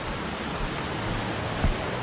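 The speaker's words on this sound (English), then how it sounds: "This is a stream. This one is moving like crazy, very fast." A fast-moving stream rushes over rocks through a string of small waterfalls, giving a steady, full wash of water noise close by with a brief thump partway through and no voices.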